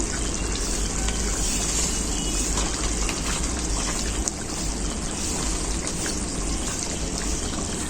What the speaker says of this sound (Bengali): ঝোলটা আমার খুব ভালো করে ফুটে গেছে। এরপর ভেজে রাখা মাছটা দিয়ে দেব।